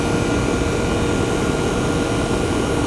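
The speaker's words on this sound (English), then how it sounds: "Compressor's running." An American Standard AC condenser's compressor runs with its fan not spinning, giving a loud, steady broadband drone with low rumble that holds level throughout and has no voices over it.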